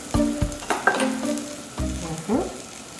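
Eggnog-soaked bread sizzles in a buttered pan over medium heat, with several loud bursts and scrapes as slices are laid in and moved around.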